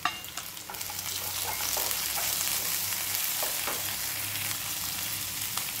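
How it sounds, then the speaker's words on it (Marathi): Curry leaves and finely chopped capsicum fry in hot oil, a steady loud sizzle with brief stirring scrapes, close up and with no talk. "कढीपत्ता, बारीक चिरलेली शिमला मिरची घालायची।"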